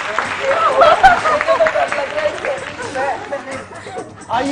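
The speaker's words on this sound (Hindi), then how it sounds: "अरे वाह, तालियां हो गई बहुत सारी।" Studio audience applause on a Pakistani morning TV show, dense clapping and crowd noise swelling and fading, loud and close, mixed with voices.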